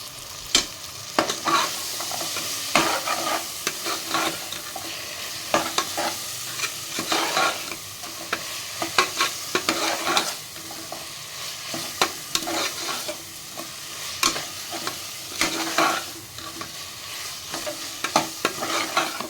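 Carrots, beans and potato for a vegetable biryani stirred in a hot pan, a steady sizzle broken by frequent scraping spoon strokes close by, with no talking.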